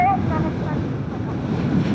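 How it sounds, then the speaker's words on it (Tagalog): Strong wind buffets the microphone with a steady, loud broadband roar on a scenic mountain road in Aguilar, Pangasinan, while a person talks over it. "Di ba malakas yung hangin?"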